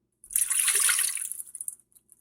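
One and a half cups of water pour into a cooking pot on the stove for churro dough, a bright splashing gush lasting about a second that tapers into a few trailing drips.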